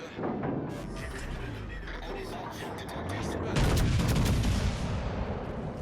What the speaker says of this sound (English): they got 10 seconds to wait on a big broadside from some large American guns